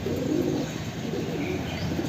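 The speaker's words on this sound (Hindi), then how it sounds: "देखिए एक हरा कबूतर आया हुआ है जिसके पैर में रिंग है" A green pigeon with a ring on its leg and white eyes cooing softly, low rolling coos repeating over faint background noise, no talking.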